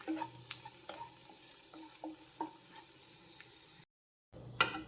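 Cashews and raisins sizzle and crackle in hot ghee while being stirred, with scattered pops and scrapes over a steady frying hiss, then a brief silence before a louder burst of sizzling.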